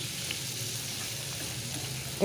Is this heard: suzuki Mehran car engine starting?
no